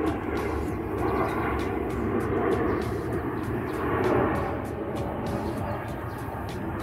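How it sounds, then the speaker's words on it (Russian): A steady jet engine roar from an airliner on landing approach near an airport, passing overhead at moderate distance, its broad rumble swelling slightly and easing without any talking. "Идет самолет у вас на посадку."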